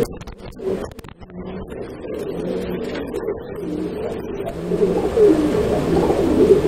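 A male pigeon coos repeatedly in a low, rolling call, close and steady, with faint background noise and no talking.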